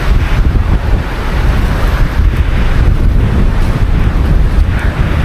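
On Mount Wilis, powerful gusts blast steadily against the microphone, producing a loud, rumbling, unbroken roar that swells and dips slightly throughout.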